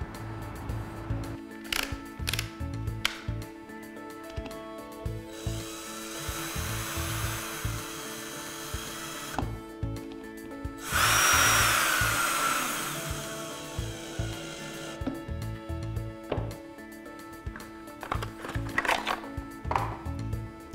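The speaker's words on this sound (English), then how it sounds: "put the screws in place to lock your lamp holder to the pot" A power tool drives screws to fix a lamp holder onto a pot, with several bursts of whirring motor and a longer loud whine in the middle, broken by clicks and handling noises.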